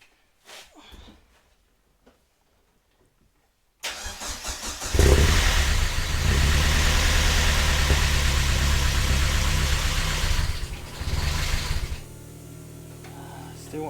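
A Chevrolet Nova engine cranks and catches after a few seconds of near silence, then runs loud and close on a rough idle while being held up with throttle, before easing down toward the end.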